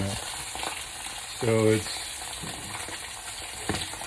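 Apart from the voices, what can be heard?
red snapper fillet sizzling in fat in a pan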